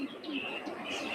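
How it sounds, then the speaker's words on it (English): An owl gives soft, hollow hoots, faint and somewhat distant, against a low background hum. "Hear that owl?"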